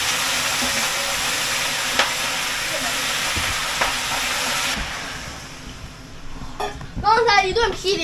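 Food frying in a home kitchen for a family birthday meal sizzles with a steady, bright hiss that fades partway through, and people then talk close by.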